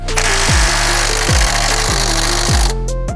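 Impact wrench hammering on a bolt of an old project car, loud and close, with several bursts of rapid rattling blows separated by brief pauses in the rising and falling motor pitch.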